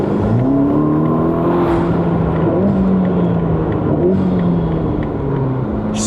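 A turbocharged sports car engine pulls hard, its droning tone sliding upward through the gears, loud and close inside the fast-moving car.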